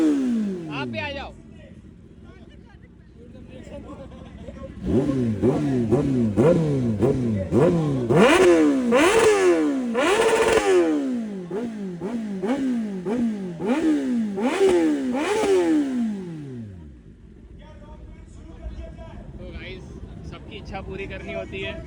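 A ZX10R or BMW S1000RR superbike engine revs hard again and again, rising and dropping in a fast sawtooth pattern, loud and close, then settles to a rough idle.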